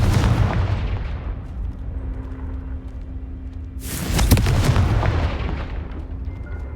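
A Confringo fire spell bursts in Hogwarts Legacy, a sudden loud booming blast partway through that cuts through a steady rumbling game ambience, leaving a rolling roar trailing after it.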